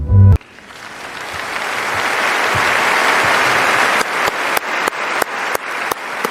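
A studio audience applauds for Team Bean, a broad rising wash of clapping that swells and sustains, with a few sharper individual claps standing out near the end.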